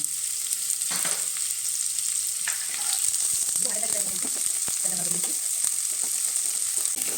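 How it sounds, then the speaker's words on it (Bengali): Chopped raw onions sizzle steadily in hot oil with whole spices for a restaurant-style mushroom masala. The close, even frying hiss is broken by occasional stirring scrapes, and a voice speaks briefly underneath. "এবার আমি এখানে পেঁয়াজ, কাঁচা কুচানো পেঁয়াজ আমি"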